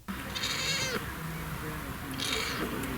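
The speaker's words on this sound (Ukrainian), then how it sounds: "його улюблениця киця Соня, яку він підібрав на вулиці ще кошеням" A cat meows twice, close and fairly loud, two drawn-out cries separated by a pause, with no talk over them.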